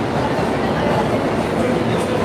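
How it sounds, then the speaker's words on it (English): An underground subway train rumbles steadily, a dense continuous roar of wheels on rails heard from inside a New York station or car, with faint voices mixed in. "A train to Harlem"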